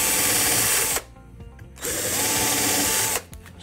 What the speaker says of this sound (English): I'm going to start off by drilling a couple of pilot holes in here.